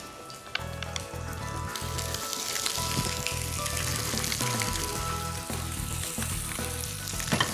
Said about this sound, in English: we need to sear it in and get it nice and crisp